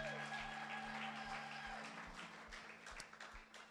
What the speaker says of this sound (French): Let us applause for the Lord Jesus.